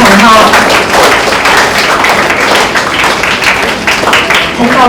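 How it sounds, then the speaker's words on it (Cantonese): Applause from an audience at a primary school closing ceremony, honouring award-winning upper-grade students; dense, steady clapping fills the whole stretch at close range without pause. "大家可以俾啲掌聲，再一次鼓勵所有得獎嘅同學"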